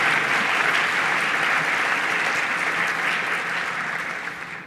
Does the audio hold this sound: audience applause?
yes